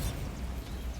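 A Bombarda blasting-spell explosion in the Hogwarts Legacy video game, a deep sustained rumbling blast, moderately loud and alone.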